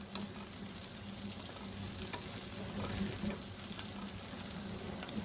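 Onion frying in a pan with bay leaf, a steady crackling sizzle that holds close and even throughout, with occasional sharper pops and no voices.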